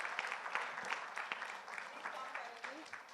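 An event audience at TiECon Surat applauding, a lively scatter of many hands clapping at moderate distance, with voices and cheers mixed into the clapping throughout.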